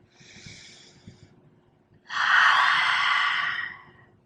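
Yoga breathing: a soft nasal inhale comes first, then a long, forceful exhale through the open mouth with the tongue out, loud and close.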